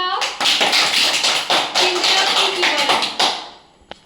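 A group of children clap together at a celebration quiz for Independence Day, a dense burst of close, lively applause that fades out near the end.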